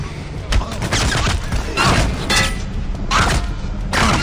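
Gunfire in the stealth shooter Splinter Cell Blacklist, a dense run of loud bursts and booms filling the whole stretch, mixed with game mechanics and a voice shouting over it.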